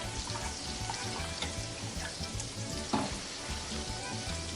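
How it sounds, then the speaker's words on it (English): Sauce in a pan being stirred as it heats toward a simmer, a steady close sizzle and bubbling with a soft spoon scrape near the end, no speech. "just give it another nice stir, mix everything together, and continuously keep an eye on it and continuously stirring until it starts to simmer"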